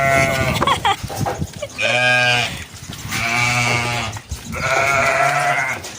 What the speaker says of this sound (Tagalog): ba't hindi ko videohan yung mga tupa? Yan, binibidyohan ko na, may ingay.